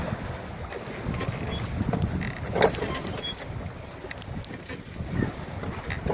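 A sailboat sails close-hauled in the wind near the Whitsundays, giving a steady wash of water and gusty wind noise on the microphone, with a brief louder splash partway through and no talk.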